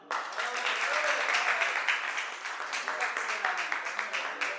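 Friends at a get-together applaud together, a steady dense patter of many hands clapping close by with a few voices mixed in underneath.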